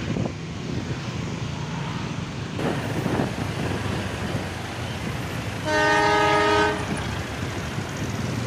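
KRL commuter electric train running past with a loud horn blast of several seconds partway through, over steady rumbling track and motor noise.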